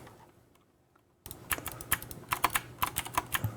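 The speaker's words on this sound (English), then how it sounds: "I can imagine this keyboard as being quite loud." Fast clattering keystrokes on a loud mechanical keyboard, starting abruptly after a quiet moment and continuing in quick uneven bursts, close and alone.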